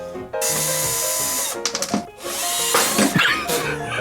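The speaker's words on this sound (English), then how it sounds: "I got a bigger drill." A power drill whirs loudly and continuously, stops briefly, then revs again in short bursts with rattling as it bites in.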